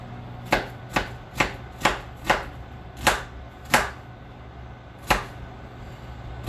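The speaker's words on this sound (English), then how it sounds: "Onions are crazy easy to cut, you guys." A knife chopping through an onion on a cutting board, nine sharp, evenly spaced thwacks, close and clear over faint background hum.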